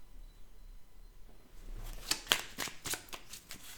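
A deck of oracle cards is cut and riffled by hand, starting after a quiet pause with a burst of crisp, close flicking and snapping card sounds and no speech.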